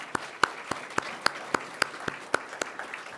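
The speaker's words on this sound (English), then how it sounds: "just give them a round of applause" A few people clap in a steady, evenly spaced rhythm at a 4-H awards program, each crisp clap standing out clearly and close by over a quiet room.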